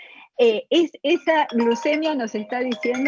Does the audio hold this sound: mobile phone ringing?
yes